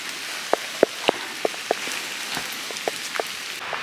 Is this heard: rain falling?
yes